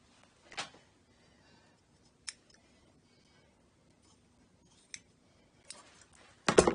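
Scissors snip through fabric in a few sharp, separate cuts with quiet gaps between them, close by; a louder burst of snipping comes at the end.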